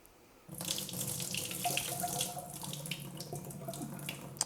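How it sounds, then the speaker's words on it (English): Rice being rinsed in a sink under a running kitchen tap: a steady, full splashing rush of water begins abruptly after a brief quiet moment and continues close and loud, with no talking. "Now, you want to rinse it until the water runs clear."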